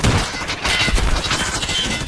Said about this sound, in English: Oh, there's a grenade.